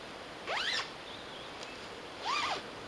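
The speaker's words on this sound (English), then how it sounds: "Okay, zipper," Two quick pulls on a bivvy bag zipper, each a short rising rasp about two seconds apart, close and fairly quiet against a soft background hiss.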